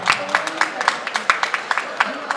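Audience at a Hindi book discussion event for Urvashi Agarwal's 'Main Shabri Hoon Ram Ki' bursts into rapid, irregular clapping, a dense patter of sharp hand claps filling the room at moderate distance.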